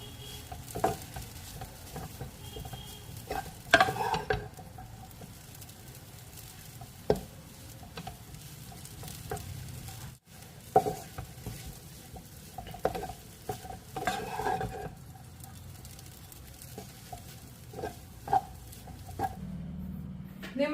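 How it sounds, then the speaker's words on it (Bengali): Chow mein is stirred and fried in a pan in a home kitchen, with a utensil scraping and clattering in irregular strokes over a soft, steady sizzle, close and fairly quiet. "সেই কারণে রান্নাঘরে চলে আসলাম মেয়ের জন্য চাউমিন তৈরি করতে। তো চলো চাউমিনটা তৈরি করে নিই।"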